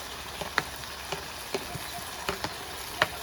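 Clams drop into frying masala in a pan, a steady soft sizzle punctuated by a few sharp clicks and knocks of shells and spoon, near and moderate in level.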